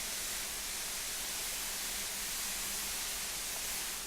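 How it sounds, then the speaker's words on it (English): A RotaryCraft machine in a Minecraft mod spins at top speed around 10,000 radians per second, giving off a steady, loud, broadband hiss that stays unchanged throughout. "Makes a nice hissing sound"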